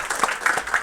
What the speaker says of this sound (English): give him a half of a clap